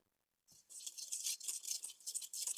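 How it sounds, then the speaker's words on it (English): Zest, sugar, salt and flour stirred together in a bowl for sweet Easter bread, a steady close scraping and swishing with rhythmic strokes, loud and continuous after a short silence. "I'm just going to mix those ingredients together in the bowl"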